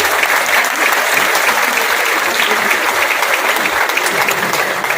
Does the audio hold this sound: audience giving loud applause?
yes